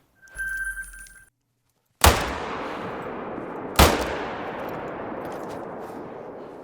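Two loud, close rifle gunshots in theHunter: Call of the Wild, each a sharp crack trailing into a long rolling echo, spaced about two seconds apart after a brief electronic chime.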